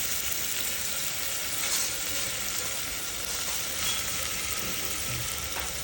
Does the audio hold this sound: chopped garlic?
yes